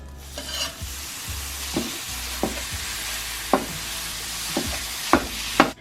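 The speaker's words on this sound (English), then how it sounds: "So I have browned my ground beef pretty well." Ground beef browns in olive oil and butter in a skillet: a low background sizzle broken by a series of sharp spatula scrapes and stirs at irregular intervals.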